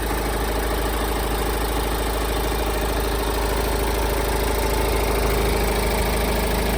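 A 2011 Kia Sorento 2.2 diesel engine idles steadily and close by, a smooth continuous rumble with an even low-pitched drone and no talking.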